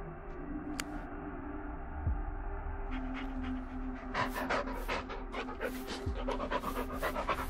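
A dog pants in rapid, rhythmic breaths in the horror video game Blair Witch, with soft whimpers mixed in and sharp clicking bursts building in the second half, fairly quiet and close.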